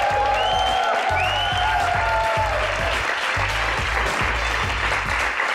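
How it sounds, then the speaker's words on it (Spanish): A studio audience at a Spanish rap-battle television show applauds loudly and steadily, a dense wash of clapping and crowd noise under a rhythmic music beat. "Un fuerte aplauso para la gran Sara Socas."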